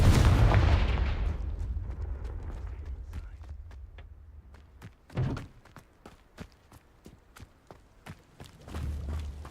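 A Confringo blasting spell explodes in the video game Hogwarts Legacy: a loud, close burst that rolls off over a second or two, followed by scattered sharp clicks and thuds and a low rumble swelling again near the end.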